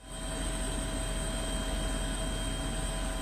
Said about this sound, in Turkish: Sahil Güvenlik Komutanlığı'na bağlı bir helikopter, bir dalış timi ve 7 tekne kayıp Halit Yuka'yı arıyor